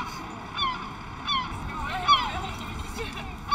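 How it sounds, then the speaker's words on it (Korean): Seagulls call over the town of Kuressaare on Saaremaa, Estonia, several sharp, honking cries spaced a second or so apart, moderately close, above a soft outdoor hum. "도시 가득 울려 퍼지는 갈매기 소리가 나를 반겨준다."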